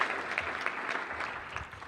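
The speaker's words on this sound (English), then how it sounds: "we're going to give you a big round of applause" Audience applause at a parent leaders' education summit plenary session, a dense steady clapping from a crowd that swells slightly and then eases off, with no voices over it.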